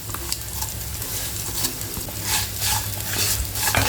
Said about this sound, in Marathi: शेंगदाणे घालायचे कच्चे शेंगदाणे घालायचे हे चांगले परतून घ्यायचे